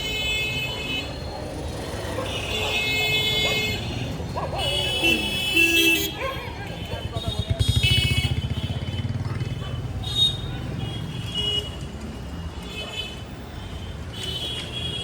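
Street traffic passes a pedestrian walking along a city road, with steady engine rumble and several car horns tooting at mid distance. Some indistinct voices mix into the traffic noise.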